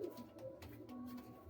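A pair of Kaldum pigeons coo softly, low throaty murmuring calls repeating through a faint, steady background hum.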